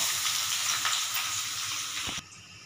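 Onions hit hot mustard oil with cumin seeds, sizzling and frying in a steady hiss close by, which drops abruptly near the end.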